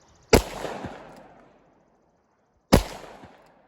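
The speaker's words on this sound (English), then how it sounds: "I want to use my triple-aught buck self-defense rounds and see how they pattern at 7 yards." Two sharp, loud shots about two seconds apart from a revolver firing reloaded triple-aught buck .410 shotshells outdoors, each a crisp crack with a short echoing decay.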